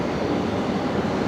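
Boeing 737-800 taking off from runway 01 right at Brisbane Airport at night, heard as a steady, broad jet roar that holds without a break, filling the whole clip at moderate distance.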